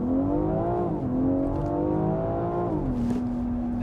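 A 510 bhp BMW X4M Competition engine pulls hard through the gears, heard from inside as a loud droning rise that drops at each shift and climbs again. There is no talk over it.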